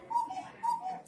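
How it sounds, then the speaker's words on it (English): Two-note cuckoo call from a large mechanical cuckoo clock, sounding twice in quick succession, close and clear with no talk. "And that's how they make the cuckoo sound."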